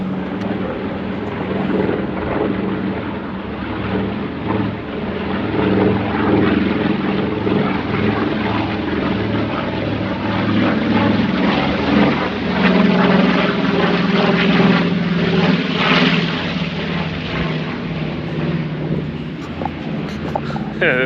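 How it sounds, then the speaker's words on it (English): A B-25 warbird, a piston-engined propeller aircraft, passes overhead with a loud, rumbling drone that swells and holds for about twenty seconds without fading away. "I'm getting interrupted by the B-25"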